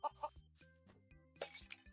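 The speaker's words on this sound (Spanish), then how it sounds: "Bueno, tenemos gallina cerca." Chickens cluck in the video game Mini World, a few short clucks near the start and later, fairly faint, with no talk over them.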